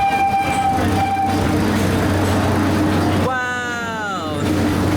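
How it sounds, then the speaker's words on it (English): A train passes at a theme park, a steady low rumble with a brief rising and falling horn or whistle tone near the end, while people talk over it. "Train."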